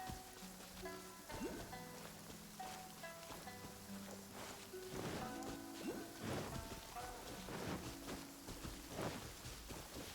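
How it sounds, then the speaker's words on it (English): Heavy downpour rain in Genshin Impact, a dense steady hiss of falling water mixed with scattered thuds, musical tones and game effects, with no talking. "Taking a stroll in the middle of a downpour certainly rouses the spirit."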